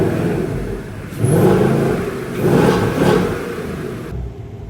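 A 2024 Ford Mustang GT Pro Mod engine rumbles loudly, swelling twice as it is revved and then settling, heard up close with no talking.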